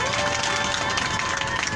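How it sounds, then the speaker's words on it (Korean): Crowd applause at an outdoor Wednesday protest rally in Yeongdeungpo, Seoul, a dense steady wash of clapping filling the whole moment without a break, loud and close. "모두 큰 박수 부탁드리겠습니다."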